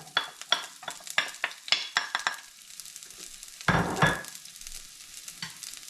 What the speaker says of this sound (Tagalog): Igisa na natin yung bawang.